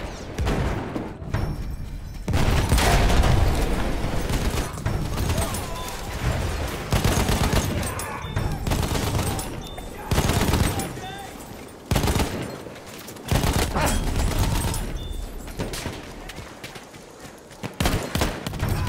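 Sustained bursts of MG15 light machine gun fire from Battlefield 1, loud and close, in long rapid strings broken by brief pauses, with booms of explosions mixed in.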